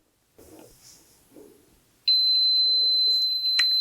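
After a few quiet rustles, a heat press lets out a loud, sustained electronic beep to signal it is done, holding a single high tone until the end.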